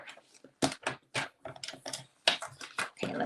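A paper trimmer cuts through card stock in a crafting setup, giving a quick run of short, crisp scraping strokes and clicks with brief quiet gaps between them, close by and fairly soft.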